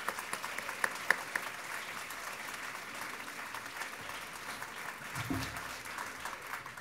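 Audience applause for musicians, a percussionist and a double bass player, at a music festival evening: faint, steady crowd clapping continuing throughout at a distance, with no voices over it.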